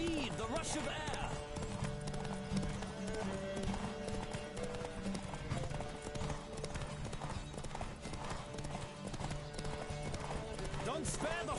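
Hooves clip-clop quickly in a galloping rhythm in The Witcher video game, close and loud, with a horse whinnying and people talking over the pounding steps and music.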